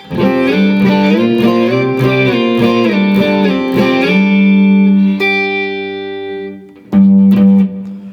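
A driven electric guitar in standard tuning, through overdrive into a clean amp, plays a line of sustained, ringing notes with a reverb tail, ending in a few loud strummed chords; the intro of a song.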